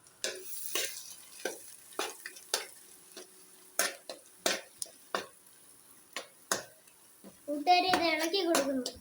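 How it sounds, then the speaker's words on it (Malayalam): A spoon scraping and stirring palak paneer gravy in a pan, making a series of distinct, fairly close scrapes at an irregular rhythm in a quiet kitchen, with a voice speaking briefly at the end. "ഇത് ഇളക്കി കൊടുക്കുന്നു, അല്ലെങ്കിൽ അടിക്ക് പിടിക്കും"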